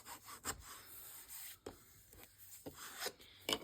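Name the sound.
burnishing down glued paper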